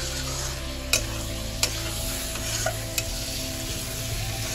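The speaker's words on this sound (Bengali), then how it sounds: "এবার আলু চিংড়ি মাছগুলো দিয়ে আবার ভালো করে একটু কষিয়ে নেব।" Potatoes and prawns stir-fried in spice paste for a Bengali aloo chingri dalna, sizzling steadily in the pan with a few sharp clicks of the spatula scraping the pan, no voices over it.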